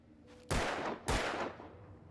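Two loud gunshots from a handgun in Alan Wake Remastered, fired about half a second apart, each sharp blast trailing off briefly, with no talking over them.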